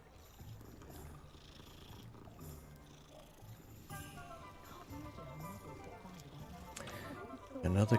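A cat purrs while being patted in Hogwarts Legacy, a soft, steady murmur set under game ambience, with speech and a louder burst right at the end.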